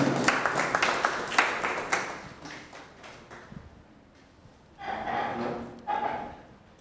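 An audience gives a round of applause to welcome a chairman at a business report launch, starting as loud scattered clapping that fades away, then two short renewed bursts near the end.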